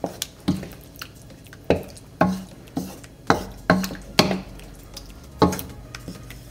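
A spoon stirring coconut milk into chicken Bicol Express in a pan, with about a dozen separate wet clacks and sloshes spaced irregularly, close and fairly quiet.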